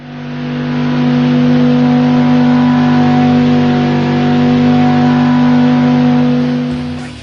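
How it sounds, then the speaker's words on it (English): A V10 engine revs steadily in a recording, giving a loud, dense, continuous mid-pitched roar with strong tonal harmonics that swells gently and then fades out at the end. "Here's an audio signal sample taken from a V10 sound recording."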